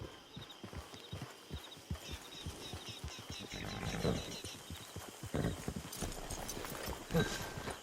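Horse hooves clip-clop at a walking pace in the Red Dead Online game, close and rhythmic, with a horse's snort or whinny and voices talking over the steps.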